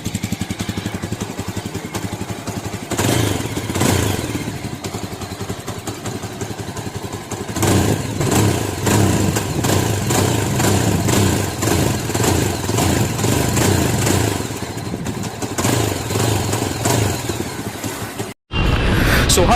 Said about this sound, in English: as you can see that I am riding Yezdi Adventure